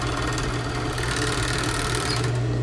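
Steady, loud whirring of a sewing machine running continuously while sewing a side seam on a garment with an elastic waist, with a constant low motor hum throughout.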